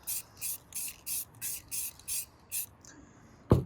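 An airbrush sprays paint onto a shifter insert in short, regular bursts of hiss, about eight close, quiet puffs in a row, followed by a faint tone and a light knock.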